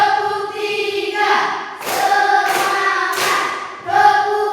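Schoolchildren in a classroom clap a rhythmic pattern on command, with three loud bursts of clapping, each several quick claps, separated by short pauses, set against a sustained hum and faint voices.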